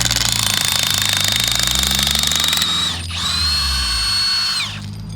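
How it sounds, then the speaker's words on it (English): A power drill runs in reverse to back out a ground screw anchor on the playa, with a loud, steady, close-up whine and rattling gear drone that shifts pitch midway and then stops. "to take it out, you just put the tool in reverse"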